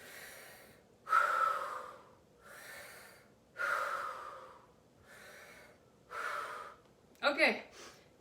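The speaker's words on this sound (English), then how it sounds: "Take some deep breaths." Deep breathing after an exercise set: six slow, heavy breaths in a steady rhythm, each swelling then fading, close and fairly loud, ending with a sharper gasp-like intake.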